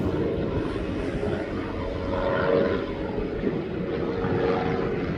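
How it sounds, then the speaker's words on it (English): A Boeing 777 taxis toward the DHL area at East Midlands Airport, its engines a steady, moderately distant whine and rumble with no voices. "I'm keeping an eye on this 777 at the moment"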